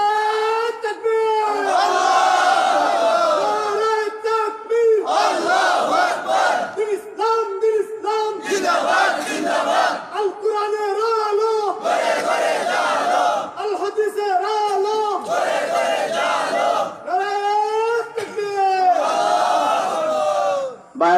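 A large mosque congregation answers the call with repeated, rhythmic takbir chants of Allahu Akbar, loud massed voices rising in waves with short pauses between each response over about twenty seconds.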